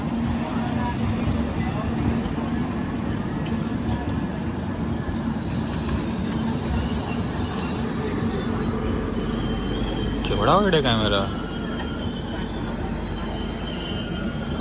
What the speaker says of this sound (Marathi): आणि इथून एक ट्रेन येते समोरून.